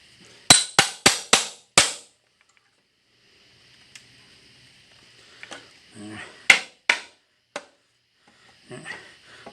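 A twisted nail is pried and pulled out of pallet wood. A quick run of five or six sharp, close knocks opens the clip, then after a pause come scattered creaks, scrapes and a few more hard taps.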